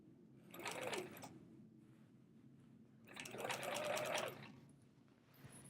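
A sewing machine quilts with metallic thread in two bursts of fast rhythmic stitching, separated by a quiet pause, heard up close with no talk.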